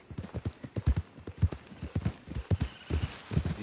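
Horse hooves clip-clop at a steady trotting rhythm in Red Dead Redemption 2 Online, close and distinct, with a soft snort or whinny mixed in and no speech over them.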